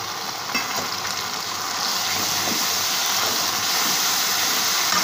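Ground ginger, cumin, garlic, onion and chili paste frying with softened onions in a pan, a loud continuous sizzle and hiss with occasional stirring, growing slightly louder, no talk.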